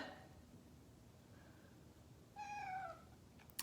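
A pet cat meows quietly indoors, a short faint call followed by a clearer, slightly longer meow near the end, over a soft background hiss with no talking.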